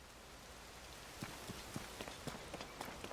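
Steady hiss of rain falling in Zelda: Tears of the Kingdom, a continuous wash with several soft, evenly spaced tapping drops or steps standing out near the end, no talk.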